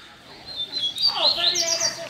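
A coleiro seedeater songbird sings a bright, rising run of chirps and trills that builds in the second half, fairly close and clear, with some faint background noise.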